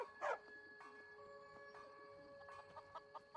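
A dog companion in Skyrim lets out one sharp bark near the start, then only faint game ambience with scattered soft clicks and chirps.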